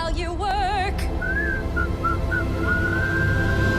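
Melodic whistling of the tune from the Snow White film, a bright wavering line after a short musical intro, carrying on steadily over a busy orchestral backing.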